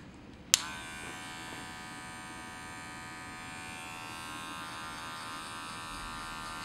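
Electric hair clippers switch on with a sharp click and then hum in a steady close buzz while cutting a skin fade, with no talk.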